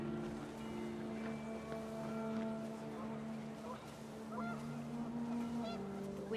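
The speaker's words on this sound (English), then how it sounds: "The wind picked up, and panicked geese appeared and quickly went." Panicked geese honk in the video game What Remains of Edith Finch, as the wind picks up outdoors. Layered honks and tonal calls rise over a steady low hum and breezy wash, continuous and fairly full throughout.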